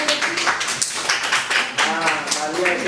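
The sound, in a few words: audience clapping hands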